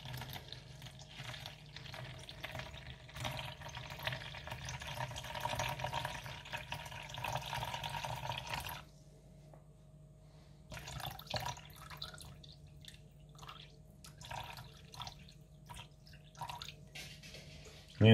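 Water poured and dripping into a bowl while weighing it for wheat bread roll dough, a running trickle for several seconds, then quieter intermittent drips and small splashes close by.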